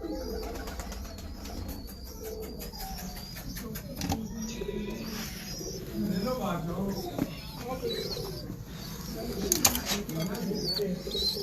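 Teddy pigeons coo and flap their wings in a loft, soft bird calls and wing rustles mixed with steady background noise and people talking nearby.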